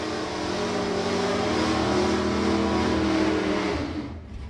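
A Pontiac Firebird Formula drag car roars down a drag strip at full throttle, a loud, sustained engine blast that holds steady for several seconds before beginning to fade as it pulls away.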